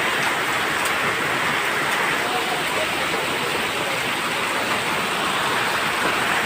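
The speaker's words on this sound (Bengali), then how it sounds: "প্রচুর বৃষ্টি।" Heavy monsoon-style rain pours down outdoors in Bangladesh, a dense, loud, unbroken hiss of drops hammering surfaces without letup.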